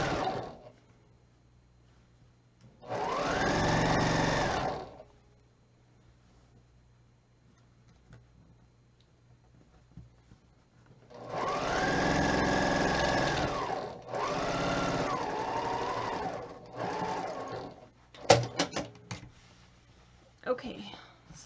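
A sewing machine stitches a quilt block in three steady, close bursts of a few seconds each, separated by quiet pauses, with a person talking between the runs.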